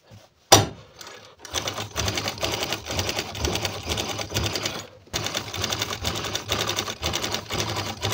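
Household sewing machine stitching on cloth, running steadily and rhythmically for several seconds after a sharp click at the start, pausing briefly, then resuming its even close mechanical chatter.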